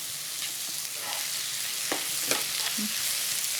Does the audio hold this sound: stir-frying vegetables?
yes